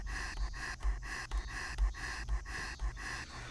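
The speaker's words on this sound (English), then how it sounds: "I can make weird breathing noises if I tap this button." Rapid, rhythmic panting breaths from the asthma attack button in the horror game Yuoni, about seven heavy gasps at an even pace, close and alone with no speech.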